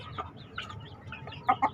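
Crossbred chickens cluck softly in a pen, a few short, scattered clucks, the last two louder and close together, with no voices.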